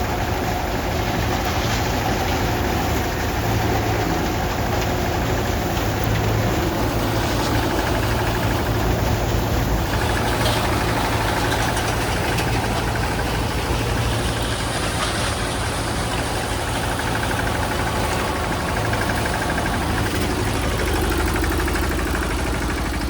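A tractor engine runs steadily at idle throughout, a continuous low, even drone with no breaks and no voices.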